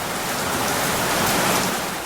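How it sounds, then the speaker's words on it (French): Steady rain falls in an even, dense hiss on surfaces in Fort-de-France in early July, continuous and fairly loud with no voices. "La pluie, bien sûr."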